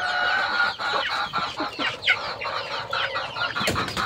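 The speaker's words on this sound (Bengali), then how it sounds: "এরকম ঝুটিওয়ালা মুরগি আরো আছে।" Crested desi chickens on a big Shariatpur poultry farm keep up a busy, overlapping clucking, a steady flock chorus with occasional sharper calls rising above it.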